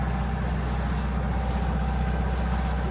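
A sailboat's engine runs steadily while motoring on passage from Savusavu toward Yadua Island via Bua Bay, a continuous close, loud drone with no breaks.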